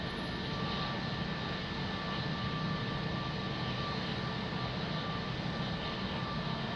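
Etihad Boeing 787-9 Dreamliner jet at Lisbon Airport producing a steady, broad engine roar with a faint whine, constant and moderately distant throughout with no talk.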